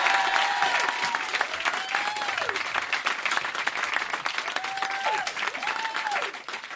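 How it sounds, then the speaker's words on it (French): Live audience applauding performer Dedo at a French variety show, steady dense clapping throughout, with some whistles or vocal cries riding over the crowd. "On l'applaudit."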